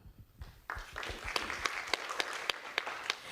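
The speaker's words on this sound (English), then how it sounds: "Please clap hands." Audience clapping at an international agricultural research symposium, starting faintly and building into steady, distinct hand claps in a hall, moderately quiet and even.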